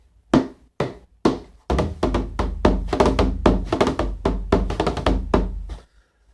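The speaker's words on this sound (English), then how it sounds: "I'll normally take this drum for a harder sort of percussive sound" A bodhran frame drum is struck hard for a percussive sound. Sharp, punchy hits come first as a few spaced strokes, then run into a rapid, steady rhythmic roll before ending abruptly. The drum is close and loud, with no talk.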